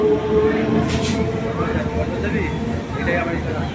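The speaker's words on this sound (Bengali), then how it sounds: "আর এখন এখান থেকে ট্রেন যাচ্ছে" A train passing behind a temple, heard from a rooftop as a loud, continuous rumble and rolling clatter, with people talking over it.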